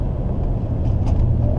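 A BMW 335i revved to about 2,500–3,000 rpm, heard from inside the car as a steady, deep engine and exhaust drone that swells slightly toward the end.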